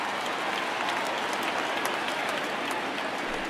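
A large home crowd at a 2019 World Series game between the Houston Astros and Washington Nationals in Washington roars and applauds in a steady, dense wash of cheering that fills the ballpark.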